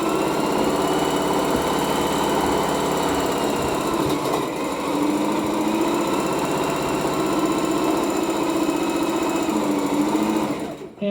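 A sewing machine stitches gray and orange cloth for a face mask, running fast with a loud, steady whirring hum that holds for about ten seconds and then stops abruptly.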